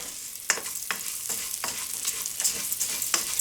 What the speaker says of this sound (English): what we want to do is we want to get all of that rice coated in that butter and flour